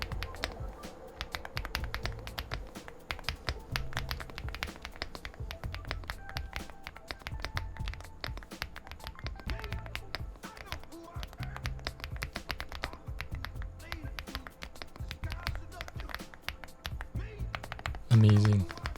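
Typing on an MCHOSE L7 Ultra mechanical keyboard: rapid, continuous clacky keystrokes in uneven bursts, close and crisp, with a brief louder knock near the end.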